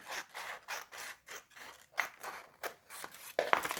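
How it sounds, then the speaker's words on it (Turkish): Scissors snip steadily through paper to cut out a square, a rhythmic series of crisp close cuts and rustles with no talking. "Şimdi buradan olduğu yerden kareyi kesiyorum."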